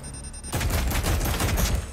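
Rapid enemy gunfire in Resident Evil 4 Remake, a sudden dense volley of shots hitting the player, loud and continuous after a brief quieter start.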